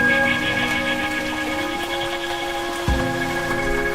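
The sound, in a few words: rain pattering against a window pane during a storm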